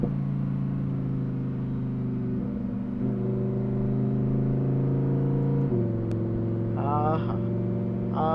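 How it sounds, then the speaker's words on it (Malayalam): A Lamborghini or BMW engine hums steadily and changes pitch as gears drop, with a sustained close drone and a brief higher whine near the end; no talk. "ഇനി ഗിയർ ഡൗൺ ചെയ്യുമ്പോഴുള്ള സൗണ്ട് വ്യത്യാസം നോക്കട്ടോ"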